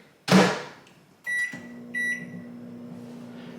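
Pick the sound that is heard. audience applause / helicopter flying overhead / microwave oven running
microwave oven running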